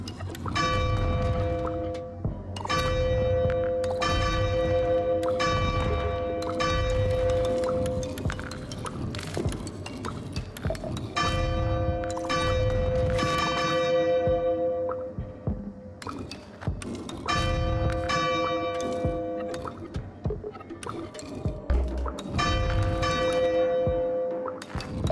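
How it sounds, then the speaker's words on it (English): Bells chime in the puzzle adventure video game Arranger, ringing in repeated clusters of bright, sustained tones with short pauses between phrases, clear and prominent over a soft low background with no speech. "I bet I have to do something with those bells."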